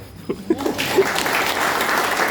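A church congregation at a Christmas service breaks into applause, the clapping swelling quickly into a steady, moderately loud wash after a few brief voices.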